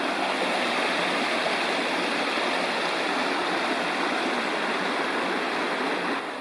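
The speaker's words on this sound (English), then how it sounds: "Little Gizzard Creek above the falls" Little Gizzard Creek rushes above the falls in a loud, unbroken wash of flowing water, steady and close throughout with no voices.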